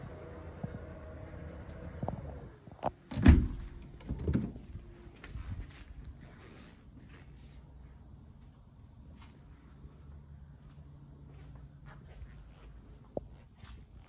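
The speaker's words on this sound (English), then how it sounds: "Shut the power boot button there." The power tailgate of a 2014 VW Touareg 3.0 TDI V6 R-Line closes with a clunk and latching thud, followed by a faint motor whir and quiet settling sounds.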